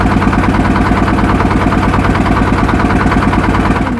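A motorboat engine chugs steadily and loud on the Ganges near Mukundapur ghat, a close, continuous rhythmic throb with no pauses.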